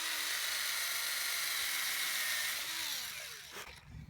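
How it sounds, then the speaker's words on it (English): Power drill fitted with a countersink bit boring a pilot hole into a wooden board for deck screws on a raised garden bed, a loud sustained whine that shifts pitch as the bit bites, then winds down and stops. "I'm going to pre-drill these 3 holes and then sink them in with the these deck screws"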